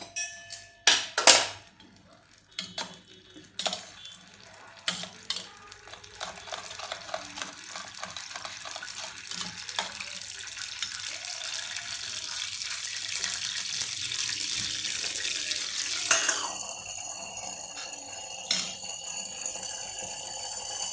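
Clinks and clatter give way to a steady rushing pour of water into a pan, with a hissing sizzle as it hits, then scattered crackles.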